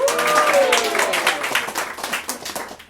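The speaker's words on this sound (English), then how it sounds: "Let's give a big round of applause." A live comedy show audience claps loudly for a volunteer, dense applause that fades over a few seconds, with a voice briefly audible over the start.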